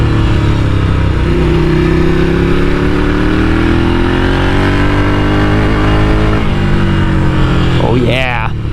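A touring motorcycle engine drones steadily while riding, loud and continuous with a rising tone as it pulls, wind and road noise mixed in, and a brief chirping sound near the end.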